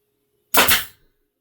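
A nail gun fires once, driving a nail into a wooden toy pickup truck: a single sharp, loud pneumatic crack and burst lasting under half a second, close and alone in silence.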